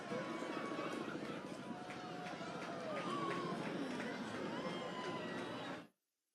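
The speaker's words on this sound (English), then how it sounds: "You can hear the crowd erupting at various moments when the eclipse has been seen" A large crowd gathered near Niagara for the 2024 total solar eclipse cheers and murmurs in a steady, dense roar, with scattered shouts and voices rising from the mass before it cuts off abruptly.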